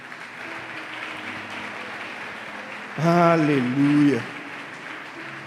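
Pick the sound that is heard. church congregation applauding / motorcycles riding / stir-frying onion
church congregation applauding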